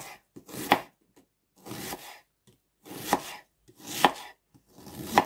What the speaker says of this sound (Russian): Лук нарезаем полукольцами, толсто резать.